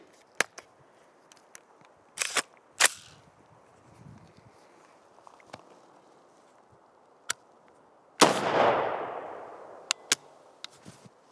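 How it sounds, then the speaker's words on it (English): Sharp, loud gunshots from a Ruger SFAR rifle ring out outdoors, a few isolated reports scattered across the stretch with quiet gaps between them, plus one longer, louder blast trailing off near the end. "we're finally taking our first shots using the magazine that came with the rifle"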